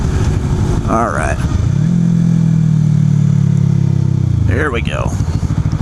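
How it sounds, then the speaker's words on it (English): A small 250cc motorcycle engine catches and idles steadily for a few seconds, then shuts off, with someone talking briefly before and after the engine run. "I'm going to show you guys how easy it is to start and stop these small bikes here."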